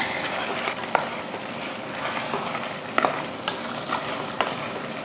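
Masala with chilli powder sizzles in a pan for mutton curry under a constant frying hiss, with occasional scraping clicks of a spatula stirring it, close by.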